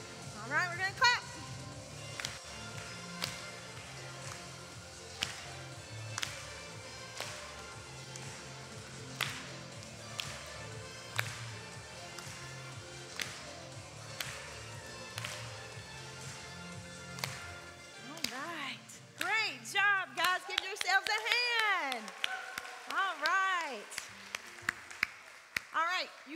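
Church congregation clapping in a steady rhythm during worship music, sharp repeated claps under singing and instruments for most of the stretch, giving way to a solo voice near the end.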